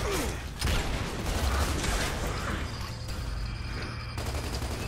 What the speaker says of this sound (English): Baird is shooting at nothing.